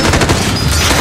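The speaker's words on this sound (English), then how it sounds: "Oh shit, grenade!" Grenade explosion during a Call of Duty Modern Warfare spec ops mission, a loud, close, dense burst of crackling blast noise filling the whole moment, mixed with rapid gunfire-like rattling and no talk.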